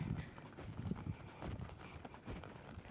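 A ridden horse walks steadily during a schooling session on serpentine exercises, its hooves clip-clopping in an even rhythm close by, with no talking.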